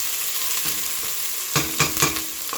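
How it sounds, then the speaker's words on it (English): Onions sweating and sautéing in a pan for chicken cacciatore, giving a steady soft sizzle with a few louder stirring scrapes near the end, close and without talk. "we're gonna saute this down"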